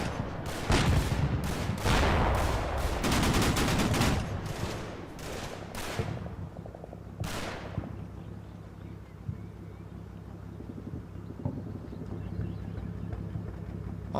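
A .50 caliber machine gun opens up in a WWII Normandy farmhouse fight in Combat Mission, firing loud, sharp bursts over the first several seconds. A lone later burst follows, then the shooting fades into a low, wind-like rumble.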